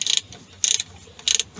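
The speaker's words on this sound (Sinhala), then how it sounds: "දැන් මේ කී එක දාලා දැන් මේ ඇනේ තද කරනවා" Three short, loud bursts of ratcheting clicks as a spanner tightens a nut on a two-stroke three-wheeler engine, each burst separated by brief pauses, close up and alone.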